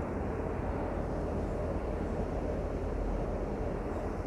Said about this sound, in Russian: И сейчас я вам покажу сам поезд.